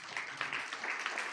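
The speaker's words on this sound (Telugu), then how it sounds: "చప్పట్లు కొట్టండి." An audience at a church sermon claps together, a steady, dense patter of many hands close by with no talking over it.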